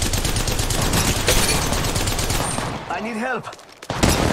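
Rapid, sustained automatic gunfire in Apex Legends Mobile crackles loud and dense, then breaks off as a voice speaks briefly before the shooting resumes.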